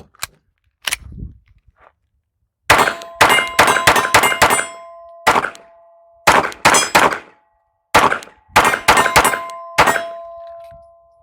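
Gunfire from a pistol being run through a full magazine at a steel target, sharp shots with ringing metallic clangs, a couple of early single shots then rapid bursts of about five in a row, loud and close.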